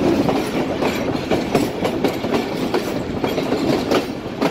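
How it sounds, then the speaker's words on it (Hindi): Steady rhythmic clatter of train wheels rolling over rail joints as three locomotives pull the Jaffar Express from Aab-e-Gum railway station, loud and close, continuous with repeating clicks throughout. "आवाज़ जो ट्रैक साउंड है यहाँ पे बहुत ही मज़ेदार है"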